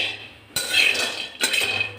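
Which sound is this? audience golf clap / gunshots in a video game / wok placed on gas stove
wok placed on gas stove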